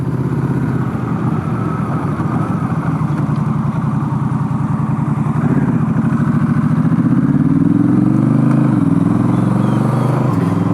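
A motorcycle engine running steadily on a thick seafoam fuel mixture, with a continuous loud drone whose pitch rises and falls as it revs, heard up close throughout without talk.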